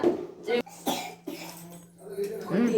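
A child coughs a few times in short bursts, close by, between stretches of talking.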